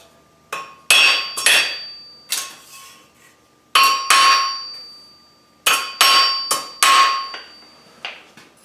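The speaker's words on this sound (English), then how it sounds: "We're going to take a flatter and we're just going to flatten that out." A hammer strikes a flatter on forged steel resting on an anvil, giving ringing metallic clangs in irregular clusters of two to four blows, each decaying between strikes, loud and close.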